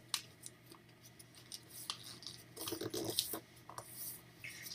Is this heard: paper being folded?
yes